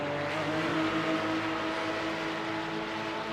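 Porsche Cup race cars at Mount Panorama roar steadily past in the distance, a sustained, even engine drone that fades slightly toward the end, with no voices.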